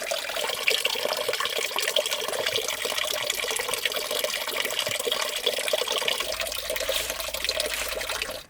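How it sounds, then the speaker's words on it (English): Cold spring water runs steadily from a source along a mountain walk in Portugal's Serra do Buçaco, a close, continuous splashing rush that stays even throughout with no voices over it. "Drink that cold spring water."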